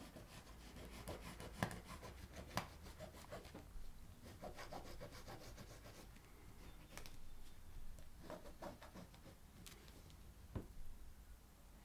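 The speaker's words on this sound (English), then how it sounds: "with your fabric marker, just make a nice line across" A fabric marker rubs and scratches across cloth in short, faint strokes while a drawstring bag is marked up, with occasional soft ticks between passes.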